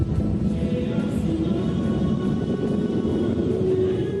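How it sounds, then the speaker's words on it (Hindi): Pilatus PC-7 propeller aircraft flying inverted in an air force display, a steady loud engine drone with a slight pitch shift as it passes, no voices. "सबसे पहले पिलाटस PC-7 एयरक्राफ्ट ने आसमान में उल्टे होकर उड़ान भरी।"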